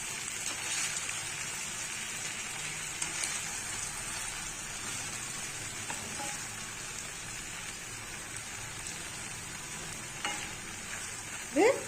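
Masala idli sizzling and frying steadily in a pan on a simmering stove, a continuous soft crackle with occasional stirring clinks, no talking.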